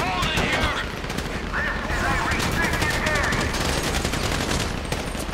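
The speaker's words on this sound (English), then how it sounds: "You hear that gunfire?" Sustained gunfire in Grand Theft Auto 5, a dense rattle of rapid automatic bursts and overlapping shots throughout, loud and close, with shouting voices mixed in over the firefight.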